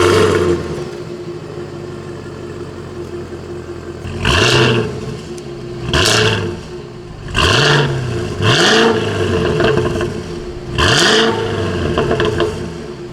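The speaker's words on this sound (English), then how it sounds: "It has more of a muscle car sound compared to the Germans, the RS7, M5, and E63." A Cadillac CT5-V Blackwing sits idling after a remote start, warm and close by, then gives five sharp blips of the throttle that climb and drop back each time, with a deep muscle-car growl.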